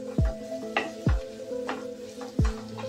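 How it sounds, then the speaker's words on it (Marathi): Ginger garlic paste sautéing in a pan for kurma, a steady sizzle punctuated by three or four distinct scraping strokes of a spoon, close and moderately loud. "पेस्टला छान परतून घ्या म्हणजे त्याचा वास निघून जाईल"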